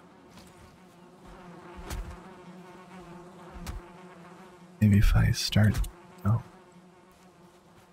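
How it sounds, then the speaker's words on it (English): Buzzing insects in the Valheim video game, a steady faint drone running under quiet talk and game ambience, broken by a few louder thumping bursts. "Oh, more bees."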